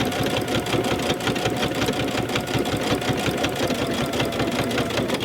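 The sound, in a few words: sewing machine with walking foot stitching quilt binding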